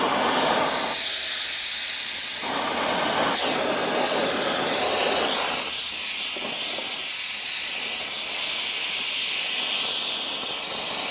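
A soldering torch hisses steadily and loudly throughout, a broad continuous rush of gas flame while tinning parts with a thin coat of solder, with no talking.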